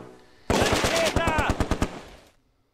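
Rapid machine gun bursts from an MG42 in the wartime strategy game Close Combat 2, a loud sustained string of sharp shots that breaks into a few separate cracks before cutting off.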